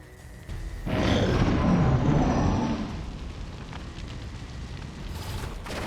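An explosion in the video game XCOM 2: War of the Chosen during a turn-based squad battle; a loud, broad roaring blast starts abruptly, holds for about two seconds, then fades into a lingering rumble.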